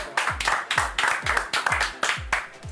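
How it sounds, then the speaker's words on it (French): An audience at a French comedy show claps in a strong rhythmic unison, about two claps per second, loud and close, with no voices over it. "Et déjà ça, vous pouvez m'applaudir"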